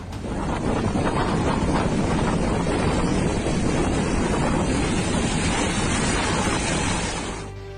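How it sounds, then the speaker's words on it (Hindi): Strong, continuous winds of Cyclone Sitrang in Bangladesh roar and buffet the microphone, with rushing, turbulent noise filling the clip from start to finish and fading slightly at the end. "तेज हवाओं के साथ तूफान अपना प्रचंड रूप दिखा रहा है"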